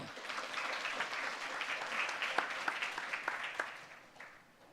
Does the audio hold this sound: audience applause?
yes